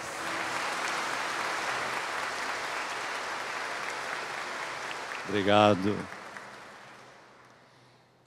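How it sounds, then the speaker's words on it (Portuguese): A congregation at a Mass for São Judas Tadeu applauds to welcome someone, a broad, even wash of clapping that holds for several seconds. A single voice briefly speaks over it before the applause fades away. "Vamos acolhê-lo com uma salva de palmas."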